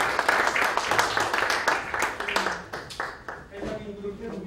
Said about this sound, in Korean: 우리 신임 회장님 박수로 맞아주십시오.